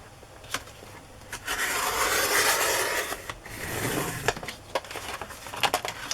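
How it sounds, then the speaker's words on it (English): Sewing supply strips being cut, giving rough rubbing and scraping strokes close by, with an uneven rhythm and a sustained stretch midway, quiet and with no talk. "I'm going to cut one of the strips off."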